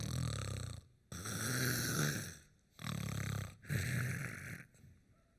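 A person imitates snoring with long, rasping snores, four drawn-out rattling breaths separated by short pauses, loud and close.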